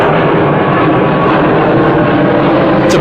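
A steady, loud broadband roar from an airplane flying overhead fills the whole stretch evenly, with no voices over it.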